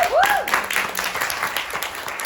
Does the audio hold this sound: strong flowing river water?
no